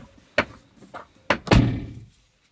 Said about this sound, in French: Et là du coup je ferme la porte.